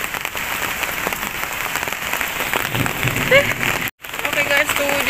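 Heavy tropical downpour drumming steadily on surfaces during a flood, a dense loud hiss with a brief cutout near the end and faint birdlike chirps.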